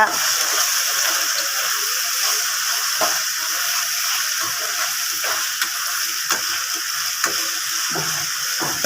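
Two medium tomatoes fry with onions in a pan for a simple egg fry, giving a steady, close hiss and sizzle broken by occasional clicks and scrapes of stirring.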